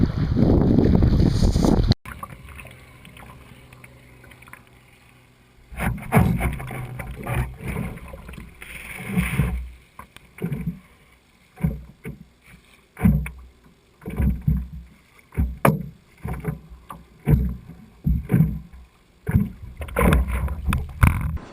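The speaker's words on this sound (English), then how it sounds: "I gotta keep paddling or I'm gonna fall over." Kayak paddling on open water: rhythmic paddle strokes splashing at a steady pace, with wind buffeting the microphone at the start.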